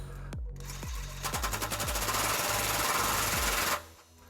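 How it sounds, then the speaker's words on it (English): Ratchet with a 22mm socket tightening a trailer hitch bolt on a 2001 Lexus LX470, a few spaced clicks speeding into a rapid, loud ratcheting burst, then stopping. "This is a 22mm socket, and we're going to tighten this while we're pulling outward on the pry bar."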